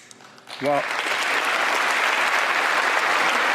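A crowd at the State of the Union address breaks into applause after a brief voice, swelling quickly into steady, dense clapping that continues to the end.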